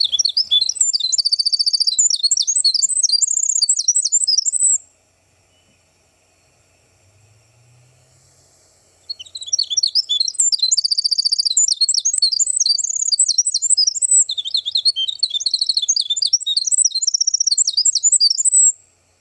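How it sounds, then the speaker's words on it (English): A wren sings a resonating, bubbling, flute-like song in a wetland habitat, with rapid tumbling phrases in two long bursts separated by a few seconds of quiet, the bird clear and fairly close. "It sounds musical and flute-like like other wrens."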